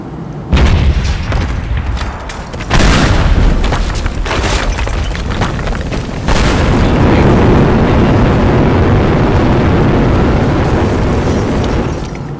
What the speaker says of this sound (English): Wait, what if we shoot him with the airstrike?